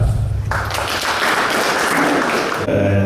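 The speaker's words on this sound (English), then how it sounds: "We can give him a clap" Audience clapping at a regional SACCO membership education meeting in Rongo, a dense steady round of applause from a crowd lasting a few seconds before tapering off.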